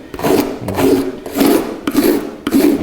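A scraper or rasp is pushed along dried fiberglass inside a wooden kayak hull in five rhythmic, rasping strokes, close and loud, each about half a second long.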